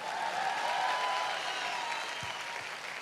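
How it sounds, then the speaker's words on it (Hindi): An audience breaks into applause after a joke at a motivational talk, a steady wash of many hands clapping that stays fairly even throughout, with a faint voice underneath. "तालियां तो बजा दो यार।"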